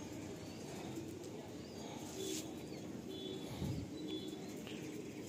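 A breeding pigeon in a loft gives soft, low coos that come as a few brief, faint calls over a quiet, steady background with some light rustling.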